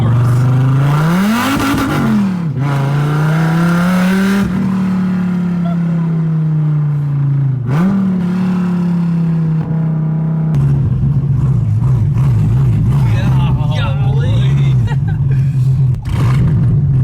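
A Dodge Viper rolls up close with a deep engine rumble that rises and dips as the throttle changes, a loud low drone holding steady with brief revs along the way.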